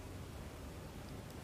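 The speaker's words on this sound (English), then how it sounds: "That's the ship, is actually out in quite a way away." Underwater hydrophone recording of a distant ship far out at sea, heard as a steady, featureless broadband wash of noise with no distinct engine beats.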